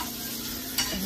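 Mandeli fish fries crisp in a pan as it is turned, a short burst of steady hissing sizzle with a quick scrape near the end, close up and without voices.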